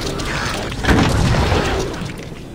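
A single muffled, booming shot in the video game Star Wars: The Old Republic rings out with a heavy thud and a short rumbling tail, moderately loud.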